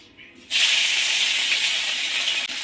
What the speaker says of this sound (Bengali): এবার ট্যাংরা মাছগুলো ভেজে নেব